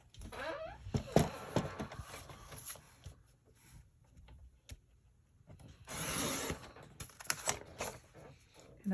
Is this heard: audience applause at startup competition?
no